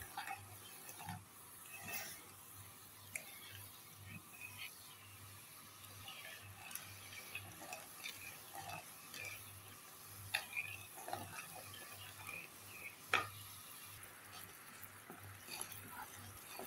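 Sugar syrup in a pot on the stove begins to boil, giving soft, faint bubbling and small ticking pops at an irregular rhythm.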